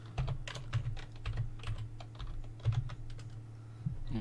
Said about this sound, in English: Then we're going to type this into Neighborhood.